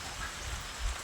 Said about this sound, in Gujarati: વરસાદ આવ્યો સીધો